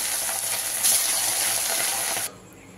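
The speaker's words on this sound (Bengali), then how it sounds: "এক এক করে আমি এবার মাছগুলো দিয়ে দিচ্ছি। তেলটা গরম হয়ে গেছে," Fish pieces dropped into hot oil set off a loud, bright sizzling hiss that swells briefly, holds steady for about two seconds, then drops off sharply to a quieter crackle.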